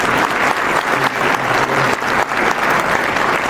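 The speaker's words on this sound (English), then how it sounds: "Could you all please give her a round of applause?" An audience at a civic coalition brunch gives a loud, close round of applause, thick continuous clapping with slight surges and dips, filling the whole stretch.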